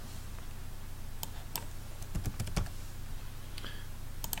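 Keys clatter on a computer keyboard as a short name is typed, a quick irregular burst of close, crisp clicks over a steady room hum, with a few scattered taps before and after.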